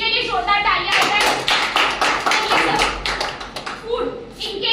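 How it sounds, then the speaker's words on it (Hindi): Audience in a hotel hall breaking into a loud round of clapping for newcomers at a product presentation, bursting in after brief speech and tapering off as talking resumes near the end. "इनके लिए जोरदार तालियां हो जाए"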